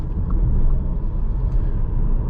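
Inside a 2020 Audi A3 Sportback driving at night, a low steady road rumble and muffled engine hum fill the cabin, even and unbroken.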